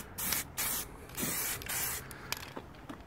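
Spray paint hisses onto a car wheel in several short, sharp bursts separated by brief silences, close and fairly loud, with no talking.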